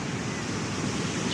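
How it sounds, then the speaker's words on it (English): Ocean waves wash steadily at Palm Beach in Sydney, a brief even roar of surf mixed with some wind noise on the microphone, with no voices. "Maybe meditate and listen to the waves,"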